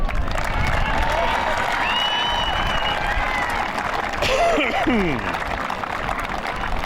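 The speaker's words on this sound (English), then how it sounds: "a round of applause for the McLeod Football Club" A crowd applauds and cheers for a football club after a grand final, a steady wash of clapping and voices with whistles and shouts rising above it throughout.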